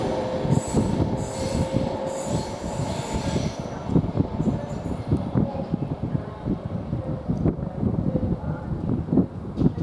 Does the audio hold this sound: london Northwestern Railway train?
yes